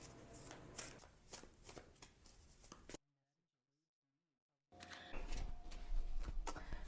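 Tarot cards being shuffled by hand, a brisk riffling and rustling texture that stops for a short pause, then resumes louder and fuller, close to the microphone with no talking.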